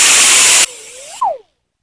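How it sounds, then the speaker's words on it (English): Drill spinning a Scotch-Brite pad against an engine valve stem, a loud broadband whirr that cuts off, leaving a whine that winds down in pitch and fades into silence. "You can use a Scotch-Brite pad. It'll be fine. Spin it."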